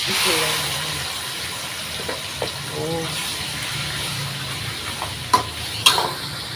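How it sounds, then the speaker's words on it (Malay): Chicken pieces sizzle and crackle in hot oil, briefly fried before going into fried rice, with a steady frying hiss punctuated by a few sharp clinks of a utensil. "kita goreng dengan minyak untuk keluarkan air ayam"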